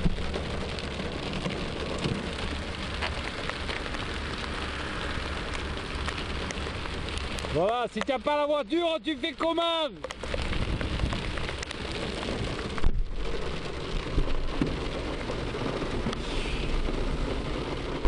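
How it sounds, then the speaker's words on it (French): Heavy rain pours down in a steady, loud roar throughout, with a brief spoken exchange in the middle, during an outing for a fishing trip. "C'est le déluge."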